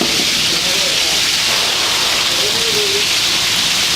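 Shallots and butter sizzle in a pan for a roux, a steady loud hiss and crackle throughout, with a brief faint voice under the frying noise.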